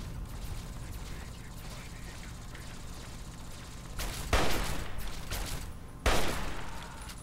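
Gunfire in the video game Fallout 3 with an ally shooting, two sharp broadband bursts of shots standing out over a steady mechanical game background, with talk nearby.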